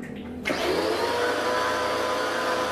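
Orion Superjet100E water sprayer switching on and running steadily while drawing water from a bucket, a sudden start followed by a constant, loud whirring motor drone like a vacuum cleaner.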